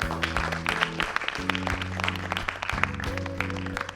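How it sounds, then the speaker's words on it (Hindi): A crowd claps steadily and continuously, a dense patter of applause over sustained music playing through loudspeakers, at a theatre play event in India. "जोरदार तालियां आप सभी की"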